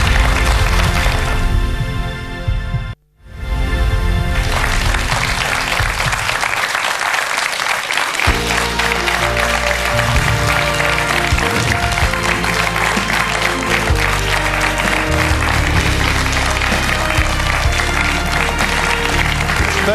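Studio audience applauding on a Lithuanian game show, a dense steady clapping that swells after a brief dropout near the start and continues loudly, mixed with music.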